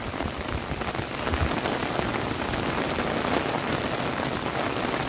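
Heavy rain falling at Zhuxi Chan Temple in Tainan, a dense, even hiss of raindrops on surfaces, steady and unbroken without any voices.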